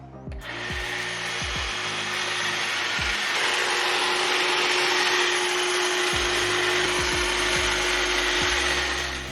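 DeWalt 20V Max cordless hedge trimmer cutting through mature arborvitae, a continuous loud buzzing hum of the reciprocating blades with scattered woody snaps and rustling of branches throughout.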